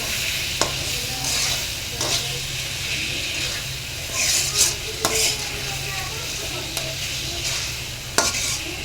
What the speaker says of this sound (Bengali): ভালো করে চিকেনটাকে কষিয়ে নিব।